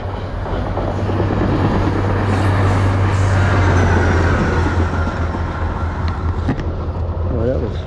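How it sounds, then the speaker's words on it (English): A train rumbles past close by on a railroad siding south of DeLand, Florida, with a steady low drone and rattling wheels, while people talk over the noise. "That sounds like another train."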